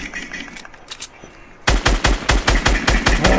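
Rapid automatic gunfire in Fortnite bursts in loudly after a quieter stretch of scattered game noise, a regular rhythm of sharp punchy shots continuing to the end.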